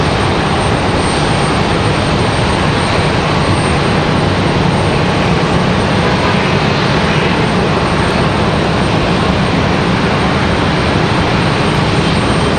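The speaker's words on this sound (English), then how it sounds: "Alaska Airlines on the move" An Alaska Airlines Boeing 737-900 jet on the move at Raleigh-Durham airport gives off a loud, continuous engine roar, even and unbroken for the full stretch, with no one talking.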